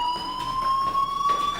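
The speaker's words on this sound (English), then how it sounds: "do you hear that fire alarm? That means you should be outside." A fire alarm in the video game Life Is Strange sounds a steady, high electronic tone with bright overtones, pulsing slightly as it rings continuously and fairly loudly throughout.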